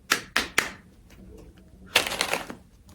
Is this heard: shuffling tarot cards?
yes